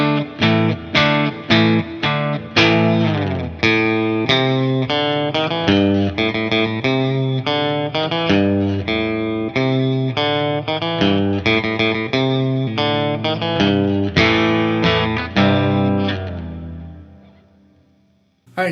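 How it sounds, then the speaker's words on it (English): A 2005 Gibson Jimmy Page Number One Les Paul Custom plays through its bridge pickup in split single-coil mode with heavy distortion: a fast, continuous rock riff of chugging chords and picked notes, loud and upfront, ending in a brief ringing stop. "let's pop out the volume pot and hear the bridge pickup one more time in the single coil mode"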